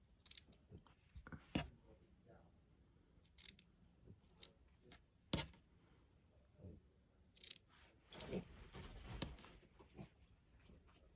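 Scissors snip repeatedly through felt, irregular sharp cuts close by, with quiet pauses and rustling between bursts.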